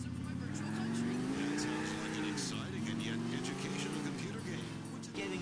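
Car engine in the video game GTA 4, a steady mid-pitched drone that rises and falls as the driver accelerates and eases off through the city streets.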